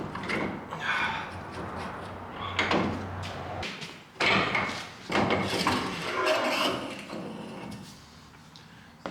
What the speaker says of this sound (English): I'm literally trying to pound the seal off the axle shaft